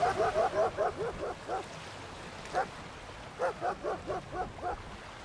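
Dogs bark in quick runs at a sea turtle on Turtle Beach, Karachi: a rapid burst, a lone bark, then another rapid series, moderately close over faint background noise.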